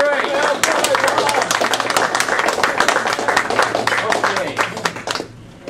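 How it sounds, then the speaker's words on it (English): An evening audience gives a warm round of applause for a guest speaker, lively overlapping claps from a room of people, steady for about five seconds before tapering off abruptly. "let's have a warm round of applause for our speaker this evening, Bob Matter"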